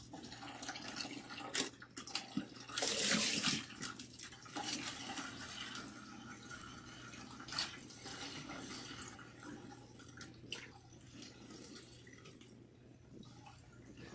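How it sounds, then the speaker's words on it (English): Water trickles and drips while hair is rinsed in a portable sink, with uneven splashes, a brief louder pour and intermittent drops close by. "Wash your hair until you see clean water."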